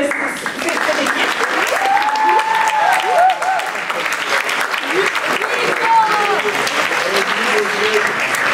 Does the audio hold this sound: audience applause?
yes